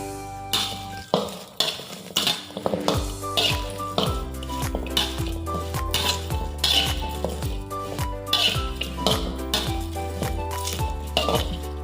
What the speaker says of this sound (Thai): เอานำข่าตะไคร้ไปคั่วก่อนครับผม